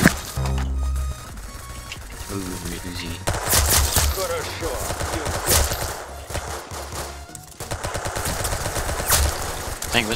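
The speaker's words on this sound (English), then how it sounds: "Ooh, MG42." MG42 machine gun in a video game firing rapid bursts, loud crackling strings of shots separated by brief pauses, with a player's voice talking over the gunfire.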